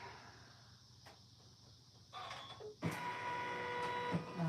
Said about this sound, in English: Now it's going to sew around it.